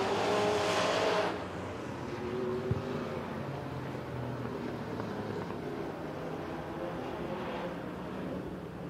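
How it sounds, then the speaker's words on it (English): Super Street Stock race cars roar around Crossville Speedway in a continuous loud engine drone, swelling as a pack passes close and fading to a steady mid-distance rumble. "We're back to green flag racing in your Super Street Stock here at Crossville Speedway."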